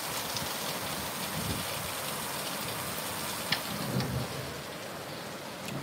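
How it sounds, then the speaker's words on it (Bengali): Heavy rain pours steadily over Dhaka, a constant wash of droplets on surfaces with a few louder splashes, heard from indoors at moderate level without anyone speaking. "প্রচন্ড বৃষ্টি হচ্ছে ঢাকায়।"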